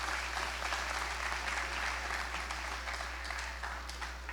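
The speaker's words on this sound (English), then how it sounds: "that deserves a round of applause for these two young men" Steady applause from a small gathering at a high school signing day for two student athletes, a continuous, even patter of clapping over a low electrical hum, heard from a slight distance.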